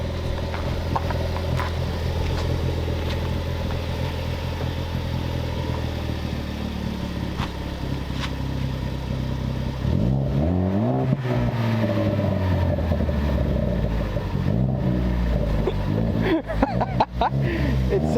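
A car engine fitted with a newly installed aftermarket exhaust idles with a deep, steady rumble throughout, then swells in a couple of short revs near the end, with voices faintly audible underneath.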